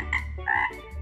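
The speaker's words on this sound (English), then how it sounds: "Frog." A frog croaks in a short pair of throaty calls, close and clear over a low steady background hum.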